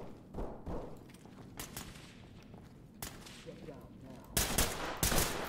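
Gunfire in the tactical shooter Ready or Not: several sharp shots and short bursts crack out at uneven intervals, the loudest near the end, with a player talking now and then between them.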